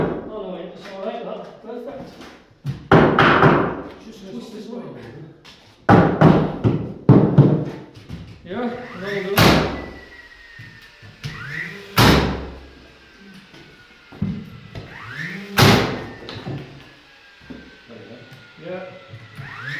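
Chipboard floorboards being knocked into place: repeated heavy thuds and sharp bangs in uneven bursts, close and loud, with workers talking between the blows.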